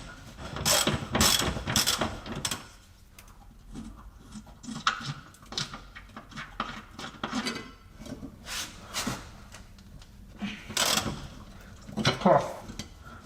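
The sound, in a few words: ratchet removing bolts from Jaguar S-Type differential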